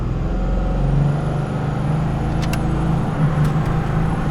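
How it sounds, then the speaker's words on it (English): A 1000 HP triple turbo Cummins diesel truck idles and builds boost against the brake before a burnout, a loud, steady low engine rumble with turbo whistle, close and continuous with brief sharp hisses. "So we're gonna just kind of start left from the brake, Start building a little bit of boost here."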